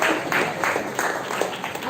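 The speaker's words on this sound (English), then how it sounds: "Give them a round of applause," Applause for students at a Republic Day school celebration: a steady wash of many hands clapping for nearly two seconds, fairly loud and close, with a voice audible over it.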